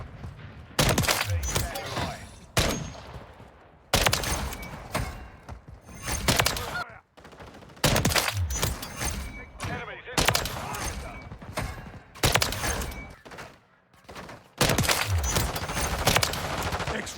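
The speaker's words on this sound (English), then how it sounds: "I'm taking effective fire." Bursts of automatic gunfire ring out repeatedly in a first-person shooter, loud sharp volleys broken by short pauses, with fast staccato shots and a voice talking between them.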